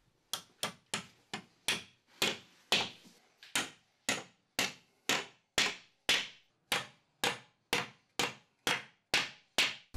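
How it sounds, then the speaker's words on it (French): Nail plugs are driven in with a hammer to fix wooden battens to a bathroom wall. About two dozen sharp, evenly spaced blows ring out close and clear, with no talk. "Fixez les lattes dans le mur avec des chevilles à clous"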